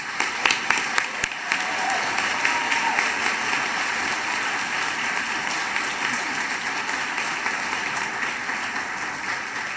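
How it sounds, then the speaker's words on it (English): Steady applause from a large audience at a college commencement ceremony fills the whole stretch at an even level, with a few sharper claps near the start. "Please join me in applauding Mr."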